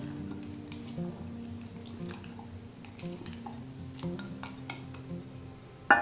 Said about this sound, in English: let's just go ahead and stir up the starter a little bit